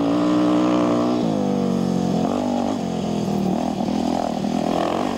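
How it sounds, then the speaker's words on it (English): A Honda rally motorcycle engine revs loud and close as it climbs through boulders on a Paris-Dakar Rally stage, its pitch rising and dipping with throttle changes. "Claudio Tiruzzi on the Honda Italy bike picks his way carefully through the boulders"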